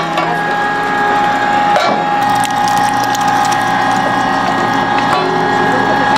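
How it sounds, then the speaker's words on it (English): A meat grinder runs steadily through a second grind of grass-fed beef, giving a loud, continuous mechanical whir with a ratcheting, geared rattle and a brief clunk partway through, with no talking. "we're gonna do this a double grind, so we're gonna do it again"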